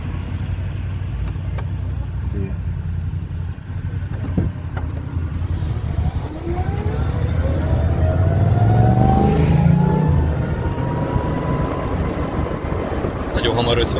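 A Renault Twizy electric small car pulls away and accelerates, its motor whine rising steadily in pitch over road and wind rumble, heard from inside the cabin.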